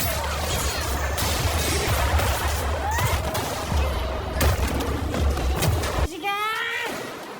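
Bursts of gunfire and sharp shots crackle amid loud, busy action-film shootout noise, with a voice talking over parts of it.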